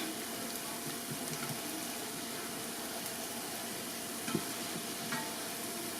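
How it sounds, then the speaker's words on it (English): Quiet, continuous sizzling of hoe cakes frying in a pan, with a soft crackle throughout and a faint clink near the end. "we got those frying"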